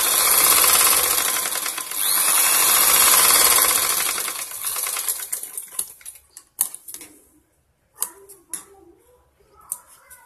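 A sewing machine double-stitches a blouse, its fast steady run filling the first few seconds before stopping, followed by scattered clicks and handling noises of fabric and tools close by.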